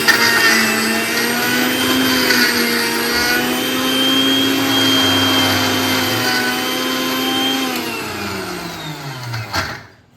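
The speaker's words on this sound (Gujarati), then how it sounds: "હા તો એ ચલાવવાનું છે મિક્સર થોડું" A mixer grinder grinds churma for jaggery churma ladoo, a loud, steady motor whine running for about nine seconds before winding down and stopping near the end.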